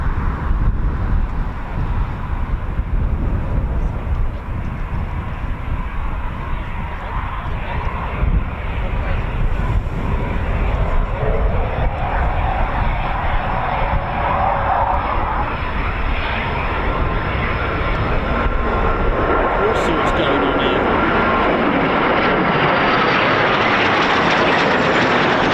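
A Eurofighter Typhoon FGR4 fast jet roars through a practice display at an RAF station, a loud, sustained engine rumble that swells and shifts in pitch as it passes, with wind noise on the microphone.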